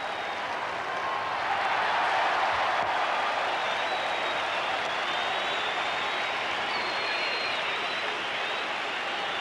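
Cricket crowd at the MCG during a 1989 West Indies versus Australia one-day match, a steady distant roar of cheering and applause sustained evenly throughout without pause.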